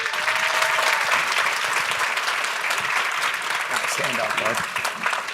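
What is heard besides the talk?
audience applause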